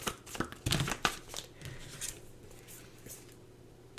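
Oracle cards being shuffled and handled at close range: soft papery flicks, slides and crinkles in quick irregular bursts that thin out into quieter rustling.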